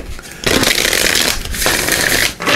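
A tarot-style card deck, the You Are Awesome deck, is shuffled up close. The cards give loud, continuous riffling bursts in three rapid runs with short breaks between them.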